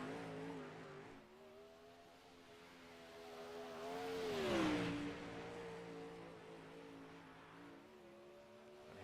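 A race car on hot laps around the Port Royal track swells in from a distance, peaks as it passes close, then fades, its engine note bending downward over a faint steady drone.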